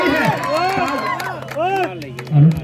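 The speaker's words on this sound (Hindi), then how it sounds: "ताली बजाइए ऊपर हाथ करके" A large crowd at a Banaras versus Ghaziabad kabaddi semi-final cheers and shouts continuously, with rising and falling voices and scattered claps filling the whole stretch, close and fairly loud.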